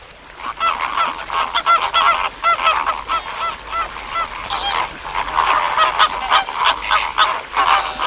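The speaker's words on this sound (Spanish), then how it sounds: "no tarda mucho en verse cubierto de flamencos y otras aves acuáticas de menor tamaño" Dense flock of flamingos and smaller water birds on a seasonal lake inside the Ngorongoro crater, a continuous chorus of goose-like honking calls, loud and overlapping throughout, with no talk.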